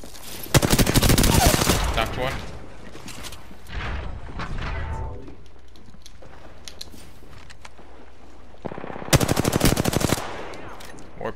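Rapid automatic gunfire in a video game in two loud bursts, one near the start and one near the end, with quieter shots and game noise between them and some voices underneath.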